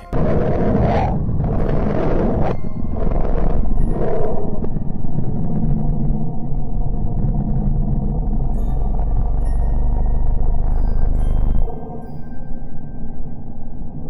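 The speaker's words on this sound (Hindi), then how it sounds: "नासा के मैसेंजर मिशन से मिले डेटा से हमें हल्की वाइब्रेशन जैसी आवाज मिलती है" Sonified vibration data from NASA's MESSENGER mission to Mercury: a deep, rumbling drone with eerie swelling tones and low growling vibrations, loud and continuous, easing into a quieter hum near the end.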